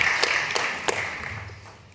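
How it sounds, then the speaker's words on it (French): A conference audience at a smart city forum applauds a speaker, with steady clapping from many hands that gradually thins and softens toward the end. "on va vous l'applaudir, c'est vrai, on ne l'a pas applaudi"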